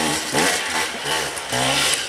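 A two-stroke enduro motorcycle revs hard in a forest during Romaniacs hard enduro racing, its high buzzing engine rising and falling in repeated loud surges, close by, with no talk.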